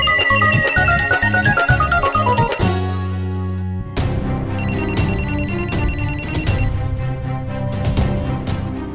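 A telephone rings loudly in a comedy-series scene, a repeated electronic ringtone melody with a brief cut partway through before the ringing resumes, with no talk over it.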